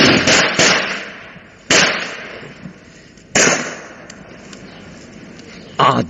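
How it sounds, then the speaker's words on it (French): Sharp gunshots fired at windows, four loud cracks spaced irregularly over a few seconds, each with a short echoing tail, standing out against a quiet background. "tirez sur les fenêtres!"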